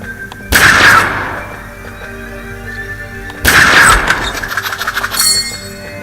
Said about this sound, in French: Je mets en place le fusil. Et je tire dans les cornes.